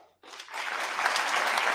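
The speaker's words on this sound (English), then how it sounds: "Round of applause." Applause breaks out after a short quiet gap and builds quickly into a steady, fairly soft wash of clapping from a crowd at a state address, continuing without any voice over it.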